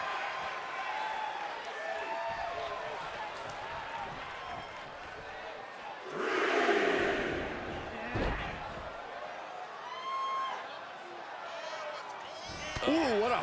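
Arena crowd at a women's wrestling match cheers under near-constant commentary, swelling into a louder roar partway through before settling back.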